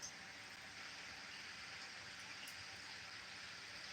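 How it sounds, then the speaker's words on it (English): Steady rain falls outdoors on the California delta on a cold morning, a soft, even hiss of drops that holds without pause at low level, with no voices present. "the rain is just kind of coming down"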